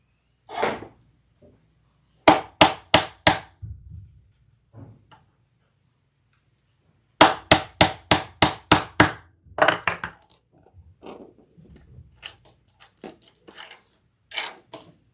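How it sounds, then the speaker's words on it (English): A hammer sets a rivet on a leather shoulder bag in two quick bursts of sharp, close taps, followed by scattered lighter knocks and handling noises. "Grab a rivet. Set our rivet."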